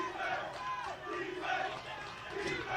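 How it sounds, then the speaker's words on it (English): Rhythmic defensive chant rising from the sideline and spreading through the crowd at a college football game, UMass Dartmouth versus Husson, a steady swelling roar of many voices in repeated pulses. "Defense chant now from the sideline and into the crowd."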